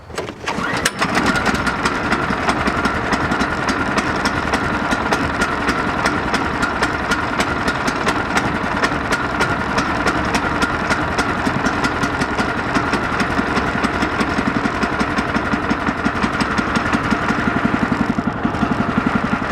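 Motor of a Woodland Mills HM126 bandsaw mill runs steadily after starting, a continuous loud, even engine drone held close for nearly twenty seconds, no speech.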